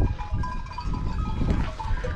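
Lambs and sheep on a farm bleating in a lively chorus, several animals calling over one another, close and continuous, without speech.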